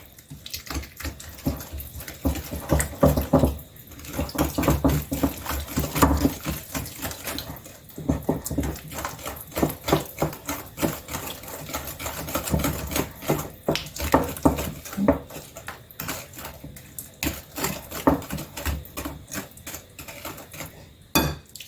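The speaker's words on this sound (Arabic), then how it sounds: "هبدا ايه بالمضرب بتاعي كده" A mixer beats biscuit batter with vanilla and Nescafé in a bowl. It makes a busy, continuous rattling and scraping close by, with uneven bursts and no talking.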